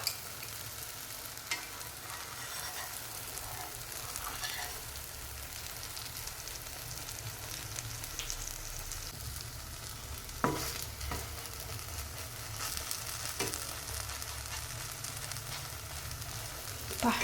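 A chocolate banana pancake, just flipped, sizzles steadily in ghee in a pan, giving a continuous frying hiss with a few faint clicks of a utensil.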